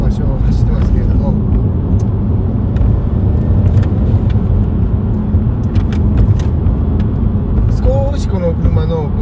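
Steady, close road and engine drone from inside a Subaru Legacy B4 cruising a familiar road, a continuous low rumble with someone talking over it.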